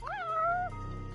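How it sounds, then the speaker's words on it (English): A single close cat meow in the video game Judgement, rising then holding a steady, drawn-out pitch before breaking off, with no talk over it. "So it should stop the meowing noises now."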